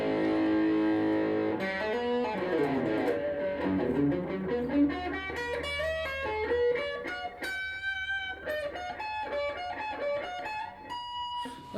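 A 2001 Ibanez AXD82 semi-hollow electric guitar, 335-style, is played through heavy distortion with sustained chords and then quick, busy single-note runs, loud and close with no talking.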